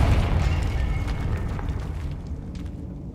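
A Confringo blasting spell goes off in Hogwarts Legacy as a single low, rumbling explosion that is loud at the start and slowly fades over a few seconds, with no talking over it.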